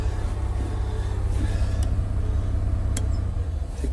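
A barn-find bus engine, stiff from the cold, runs at a steady high idle with a continuous loud, close low drone and a few faint clicks, and nobody talks.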